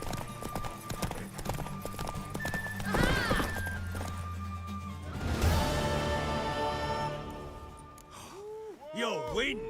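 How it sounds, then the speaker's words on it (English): Horse hooves clip-clop in a steady rhythm while a horse whinnies and snorts nearby, with a voice talking over parts of it and music tones running underneath. "Want that horse, don't ya?"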